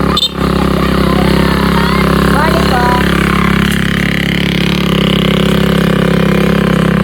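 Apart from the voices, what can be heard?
kulong-kulong motorcycle tricycle climbing a steep road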